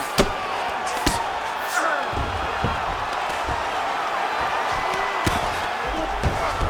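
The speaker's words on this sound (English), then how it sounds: "huge pop from the crowd as the fighters get back up to their feet" A crowd cheering in the EA Sports UFC 5 video game during a Belal Muhammad vs. Khabib Nurmagomedov bout, a steady roar of the arena audience with occasional thuds of strikes, under commentary-style talk.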